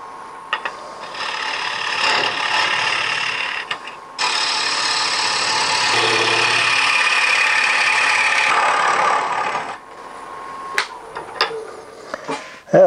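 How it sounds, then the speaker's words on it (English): Scraper cutting into a spinning cherry bowl blank on a wood lathe while hollowing, a loud continuous rasping whir that starts and stops in bursts, with the motor humming between cuts. "the scraper's really removing that wood fast"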